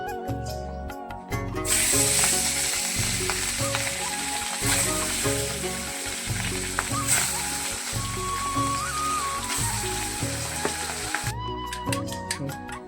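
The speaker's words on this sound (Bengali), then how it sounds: "তো মাছগুলো দিয়ে দেবো এখন তেলটা গরম হয়ে গেছে" Fish fries in hot oil with a continuous bright sizzle that lasts throughout. Background music plays underneath it.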